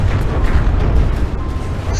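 Dense, continuous rumbling booms from explosions in the game From the Depths, loud and overlapping with no clear gaps, like a sustained barrage.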